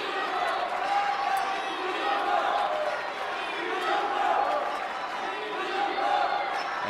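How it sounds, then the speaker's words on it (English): Arena crowd at a table tennis grand final chanting for Dimitrij Ovtcharov, a rhythmic swelling roar of many voices that rises and falls in waves, steady and loud throughout. "as the crowd chants for Dima, it drowns out the chants for Fan Zhendong"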